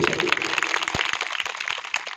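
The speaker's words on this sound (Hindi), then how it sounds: "एक बार जोरदार ताली उनकी बेटियों के लिए" Short burst of audience applause for the daughters at a wedding-themed gathering, a dense patter of many hands clapping at moderate distance with faint voices mixed in.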